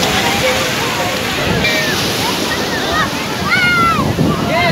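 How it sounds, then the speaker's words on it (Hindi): High-tide sea waves at Puri beach crashing and surging in a constant loud roar with wind buffeting the microphone, while people chatter and shout nearby over the surf. "आज पानी में शायद करंट भी है इसलिए पानी बहुत ऊपर तक आ रहा है"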